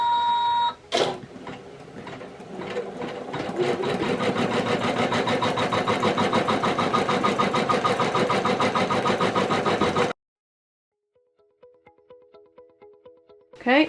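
An embroidery machine runs a placement stitch for a shoelace-tying sensory toy, giving a steady rapid mechanical whir for about nine seconds after a brief start. It then stops abruptly, leaving faint handling clicks.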